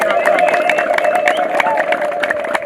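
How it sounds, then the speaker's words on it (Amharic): A church congregation claps and cheers with ululation for the Lord during an evangelical service, a dense, steady wall of crowd noise with sustained high trilling and scattered claps throughout. "ለጌታ እልልታ፣ ጭብጨባ፣ ክብር"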